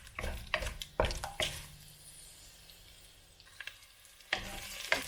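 Aromatics in a pot start to sizzle with a soft steady hiss, punctuated by a few clattering stirs and utensil knocks near the start and end.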